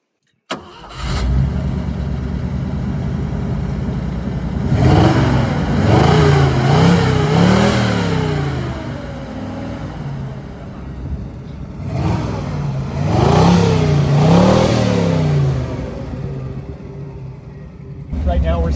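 A carbureted 304 V8 in a classic Jeep revs loudly from idle in two long swells, the engine rising and falling in pitch, then settling back to a rough idle between bursts.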